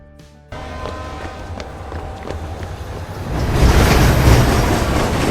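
A running train in a film scene, a steady rolling rumble of wheels and carriage noise that builds louder and denser midway through, with faint clattering and no talk.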